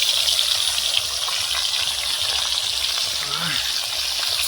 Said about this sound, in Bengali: মাছ ভাজা কিভাবে করছি তো দেখতে থাকুন।